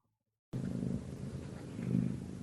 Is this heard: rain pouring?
no